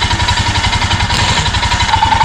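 A motorcycle engine idles close by before a Sikkim mountain ride from Lachen to Gurudongmar Lake, giving a loud, steady, rapid thumping rhythm with no talk.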